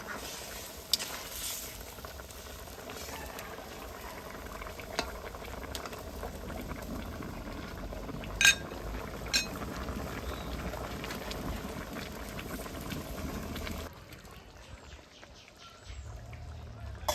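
Mutton simmering in a covered pot, a steady low bubbling and faint lid rattle that runs evenly and fairly quietly before dropping away near the end.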